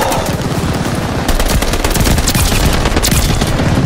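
Rapid bursts of Sten submachine gun fire in the online shooter Call of Duty Vanguard, loud, dense and continuous automatic shots with sharp cracks throughout and no speech.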